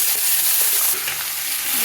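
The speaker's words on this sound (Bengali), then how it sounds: "এবার এর মধ্যে পেঁয়াজ, লঙ্কা আর টমেটো যেটা আছে সবগুলো একবারে দিয়ে দেবো।" Onion, chili and tomato go into a pan of lightly fried potatoes for a thin fish curry, giving a loud, close crackling sizzle with a few light stirring clicks.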